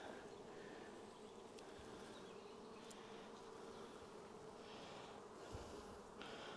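Honey bees hum in a dense, continuous drone inside an open hive at a Haselor apiary, with the sound of many insects filling the whole stretch at low level and no voices.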